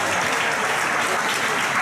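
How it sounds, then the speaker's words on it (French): An audience applauds at a radio singing contest held at Cévennes caravanes. The clapping is dense, steady and loud throughout the short stretch. "Allez, on encourage, on applaudit Gérard Pedra"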